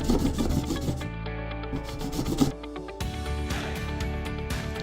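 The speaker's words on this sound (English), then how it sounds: "Remove redundant material in circumference of outer circle with hand file." A hand file rasps around the edge of a drilled hole in a plastic water tank, making continuous scraping strokes close by with no talk.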